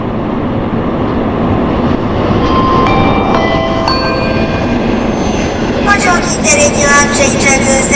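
A train rolls into a platform at Bałtyk Główny station with a steady loud rumble and rail noise, thin squealing tones rising midway and metallic brake screeches near the end.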